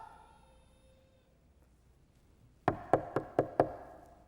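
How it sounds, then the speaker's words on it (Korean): Knocking: five sharp, close raps in quick, even succession, loud and crisp after a long, nearly silent pause. "예수님의 노크 소리가 들립니다"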